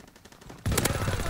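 Gunfire erupts in the World War II shooter game Call of Duty WW2, a loud burst of rapid shots breaking in abruptly after a brief quiet stretch and continuing to the end.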